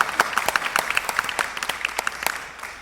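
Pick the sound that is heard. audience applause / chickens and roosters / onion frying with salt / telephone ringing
audience applause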